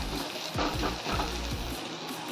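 Onions and potatoes with salt and a pinch of turmeric sizzle in a pan, a steady crackling fry broken by a few soft stirring scrapes, close and moderately loud, with no talking.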